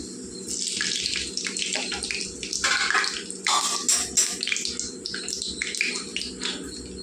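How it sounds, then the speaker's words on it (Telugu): Mustard seeds and cumin sizzle and crackle in hot oil for a tempering, a steady bright frying hiss with scattered pops that swells and fades throughout, close by with no talking. "నూనె వేడెక్కిందండి. మనం ఇందులో ఆవాలు జీలకర్ర వేసుకుందాం."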